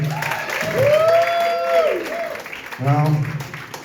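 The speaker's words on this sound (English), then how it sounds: "Give yourself a round of fucking applause, guys." A crowd at a stand-up comedy show applauds under loud whooping, rising and falling cheers, with the clapping and shouting continuing together throughout.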